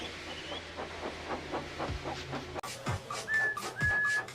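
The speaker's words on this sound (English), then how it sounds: "made lots of steam, and Edward puffed away" Rhythmic chuffing bursts of a steam locomotive, evenly spaced puffs with hissing and a couple of short high whistle tones near the end.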